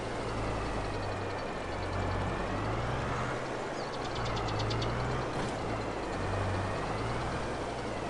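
A large tractor idles in Farming Simulator 22, a steady low engine rumble with a pulsing throb and faint higher mechanical whine, continuous and fairly loud throughout.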